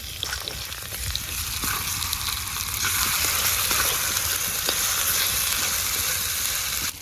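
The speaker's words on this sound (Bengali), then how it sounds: "আলুগুলো কিন্তু একটু লাল করে আপনাদেরকে ভাজিয়ে ভেজে নিতে হবে" Potatoes fry in a pan with ginger-garlic paste for a village-style curry, a loud, continuous close sizzle with occasional stirring clicks and no talking.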